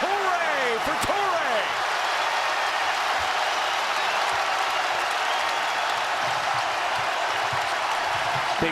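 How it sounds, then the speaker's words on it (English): A basketball arena crowd roars in a loud, sustained wash of cheering during a Big 12 men's game between Iowa and Iowa State, with a few sneaker squeaks early on. "And the crowd yells, hooray for Torre."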